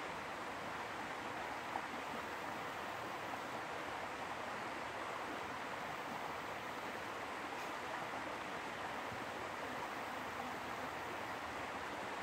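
Turkey Creek flowing outdoors, a steady broadband rush of running water that holds constant and fairly faint throughout, with no voices.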